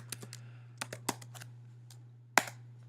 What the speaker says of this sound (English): we're going to type into the address bar of Chrome